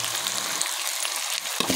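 Tomato pieces sizzle steadily in a hot pan with turmeric, with occasional scrapes and stirring sounds over a continuous close frying hiss.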